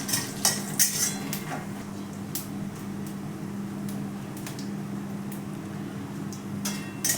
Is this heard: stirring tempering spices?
yes